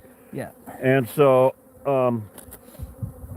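Africanized crossbreed bees drone steadily around a wall cavity, a constant close buzz with voices talking over it in several short bursts.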